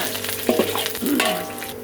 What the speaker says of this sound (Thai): เจียวกระเทียมให้เหลืองนะคะ ค่อยเอาหมูลงค่ะ